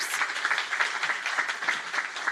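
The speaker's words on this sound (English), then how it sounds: "So everyone clap for our future healthcare nurse practitioners." An audience at a press conference for a university nursing program grant applauds future nurse practitioners, a steady patter of clapping from a modest crowd lasting throughout.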